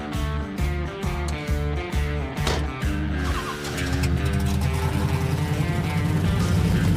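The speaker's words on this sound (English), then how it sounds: "Hearing a nice 426 big block rumble underneath that car" Older muscle car with a 426 big block engine rumbling nearby, a deep pulsing idle that beats in a rough rhythm, then swells into a louder, fuller roar partway through.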